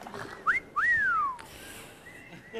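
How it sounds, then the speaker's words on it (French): A person in a restaurant gives two short, sharp rising whistles to call someone, the second longer and sliding down, loud and close over a quiet room murmur. "Ça se fait pas de siffler le client dans un restaurant, hein."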